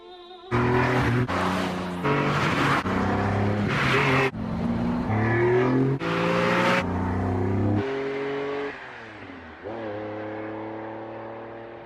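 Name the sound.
supercar driving on an empty road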